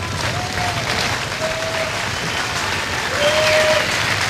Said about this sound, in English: Crowd giving the players a nice round of applause, ready to begin this quarterfinal match